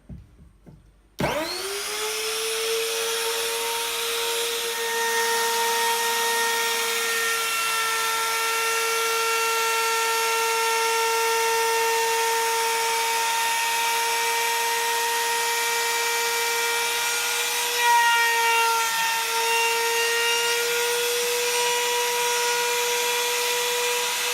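A woodworking router spins up abruptly to a loud, steady high-pitched whine and keeps running close by as it cuts wood, with slight changes in load along the way and no talking.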